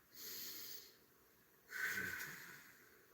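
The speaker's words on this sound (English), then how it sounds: "Like I'm snoring with my mouth shut." Two soft, raspy breaths through the nose with the mouth closed, the second louder and more throaty, like a gentle snore.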